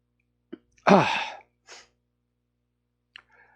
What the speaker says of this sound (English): Excuse me, I had a sneeze there.